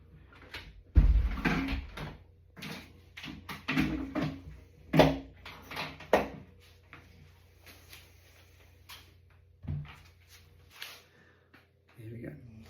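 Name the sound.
back door being shut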